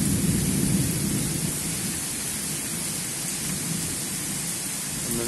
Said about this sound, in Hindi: तेज बारिश हो रही है बड़वानी में, और जैसे कॉलोनी के अंदर कितना तेज पानी बह रहा है।